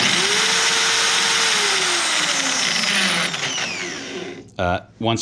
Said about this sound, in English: My drill's really noisy.